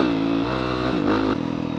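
A dirt bike engine revs loudly and close during a night off-road trail ride, a steady throaty drone that rises and dips in pitch for under two seconds with no talk.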